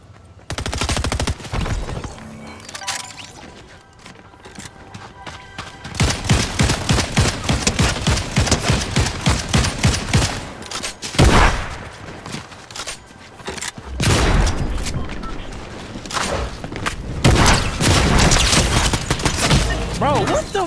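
Rapid bursts of gunfire in Fortnite duos, loud and repeated in dense volleys across the whole stretch, with short gaps and brief talk between them.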